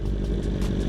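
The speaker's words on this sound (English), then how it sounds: "my bike is so quiet, bro" A Yamaha R1 sport bike engine runs with a steady, subdued mechanical hum and light clatter, fairly quiet and continuous, with no voices.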